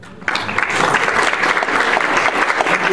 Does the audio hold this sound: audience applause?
yes